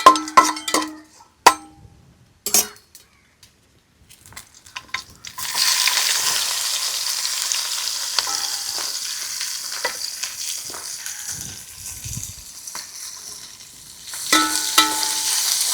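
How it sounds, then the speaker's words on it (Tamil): Onions frying and stirred in a pan for a family feast, a few clinks of a spoon at the start, then steady close sizzling with scraping strokes that carries on to the end, no talking. "வெங்காயத்தை போட்டுருவோம்."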